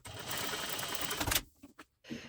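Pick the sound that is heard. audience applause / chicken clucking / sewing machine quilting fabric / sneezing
sewing machine quilting fabric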